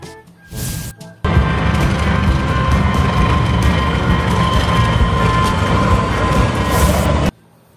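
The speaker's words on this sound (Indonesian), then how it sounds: "Wow, kereta cepat." A high-speed train rushes past with a sudden loud roar that holds steady for several seconds and then cuts off, after a brief quieter stretch at the start.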